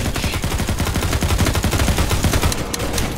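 Dense video-game gunfire during a firefight near a lighthouse: rapid automatic bursts close and loud, shots overlapping in a continuous clattering stream with no pause.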